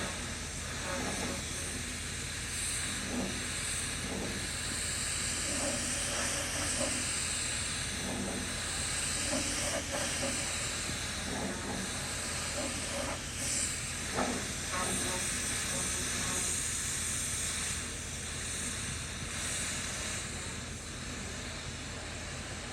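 Spray gun laying a final coat of primer over etching primer on a car frame, a constant loud airy hiss running throughout, with faint muffled voices underneath.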